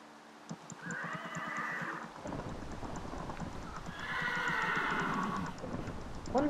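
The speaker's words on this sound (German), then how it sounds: "Oh, ein weißes Pferd." A white horse in Minecraft whinnies twice, each call a bright, wavering neigh, with soft clip-clop hoofbeats and game ambience underneath.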